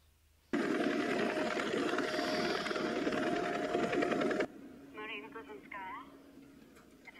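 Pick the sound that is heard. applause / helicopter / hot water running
helicopter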